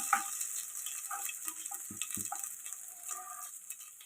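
Vegetables frying in oil for a simple vegetable pulao, a faint steady sizzle with scattered small crackles and a few soft stirring knocks.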